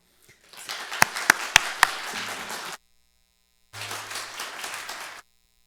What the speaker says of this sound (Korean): 우리 큰 환영의 박수로 함께 맞이하겠습니다